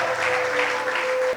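A church congregation applauds steadily, a dense wash of clapping that fills the space for a moment and then cuts off.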